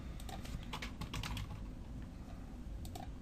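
A computer keyboard is typed on steadily to enter a username and password, with quick, close key clicks over a constant background hum.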